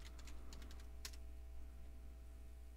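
Quick keystrokes on a computer keyboard while entering a Run command in Windows Embedded POSReady 2009, a short burst of clicks near the start, then a few isolated taps over a steady low electrical hum.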